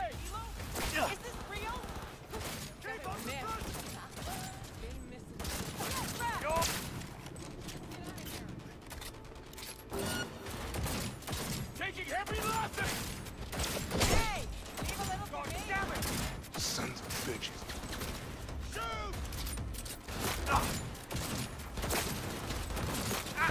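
Gunfire in the video game Cyberpunk, irregular bursts of shots and sharp cracks spread across busy game noise, with someone talking over much of it.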